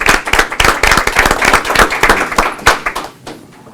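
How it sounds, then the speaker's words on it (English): Applause at a city council meeting, a burst of dense, closely spaced hand claps from the audience that holds steady, then thins and fades out near the end. "Final round of applause for these gentlemen."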